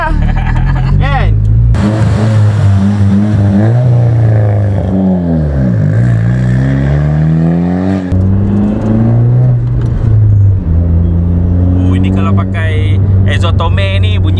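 A car engine revs hard under acceleration, its pitch sweeping down and up through gear changes, loud and close from inside the cabin while people talk over it.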